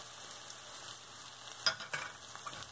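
Sliced onions sizzle softly in a pan as they sauté for a Tamil egg curry, a low continuous frying hiss broken by a couple of brief scraping stirs near the end.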